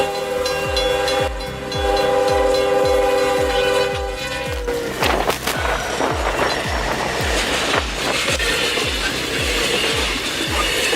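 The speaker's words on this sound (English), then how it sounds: "With a plow leading the charge, trains explode through walls of snow, turning brutal winter into a spectacle of raw machinery." A train with a snow plow mounted on the front pushes through deep winter snow, steady rhythmic wheel clacks under a loud roaring rumble, with a tonal hum early on giving way to a broader churning roar midway.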